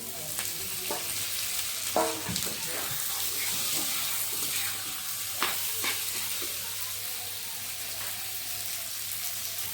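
A low sizzle of potatoes and tomatoes stir-frying, with occasional scraping and clinking as a spatula stirs the pan, steady and close.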